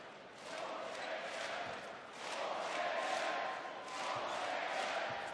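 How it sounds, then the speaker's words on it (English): Crowd noise from spectators at a basketball game, a steady roar of shouting and voices that swells and dips in waves, with a few faint ball bounces underneath. "There's Sekyu in the crowd shouting."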